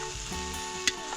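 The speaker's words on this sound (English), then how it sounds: "I'm gonna stir that up one more time, get my crispy noodle" Crispy noodles fry in a pan at a mountain lake campsite, giving a dense, close sizzle with a brief stirring scrape near the end.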